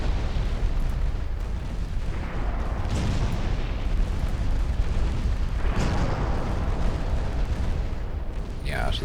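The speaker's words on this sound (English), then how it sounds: "Six-inch guns on the battle cruisers. Chipping in." Six-inch naval guns on battle cruisers firing in Ultimate Admiral Dreadnoughts, a dense rumbling barrage of repeated booms over a continuous roar, loud and sustained.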